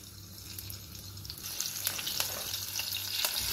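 Chopped green chillies sizzle in hot oil in a pan as a tadka, a steady crackling fry that grows a little louder with sharp pops scattered through it, with no talking.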